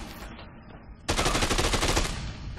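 Rapid automatic gunfire from the Xbox 360 game Dead Rising 2: Case West bursts in after a quieter stretch and rattles on loud and sustained, a dense volley with no talk over it.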